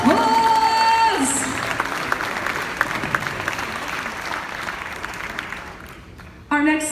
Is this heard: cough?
no